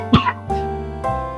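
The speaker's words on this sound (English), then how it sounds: "I'm coughing is because I toasted all those chilies" A single sharp cough up close, caused by fumes from toasted chilies while cooking chili, followed by a quieter throaty second cough and then a humming tonal background.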